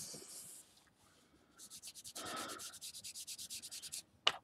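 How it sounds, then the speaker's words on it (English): A cotton ball rubs ink around the edges of a handmade card in quick, regular soft strokes, close and fairly quiet, ending with a sharp tap. "I'm just inking the edges"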